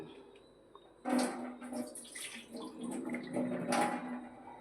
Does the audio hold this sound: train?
no